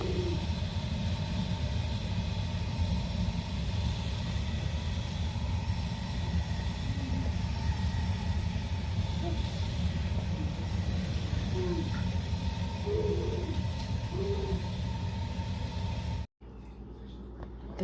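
A steamer cooking sticky rice wrapped in banana leaf gives off a steady, continuous hiss over a low rumble, holding even throughout before cutting out briefly near the end.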